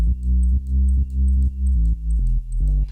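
Deep sub bass notes from the Sublab synth plugin, a near-pure sine tone, repeat in a steady pattern of about six sustained low pulses, loud and alone, with a slightly brighter final note.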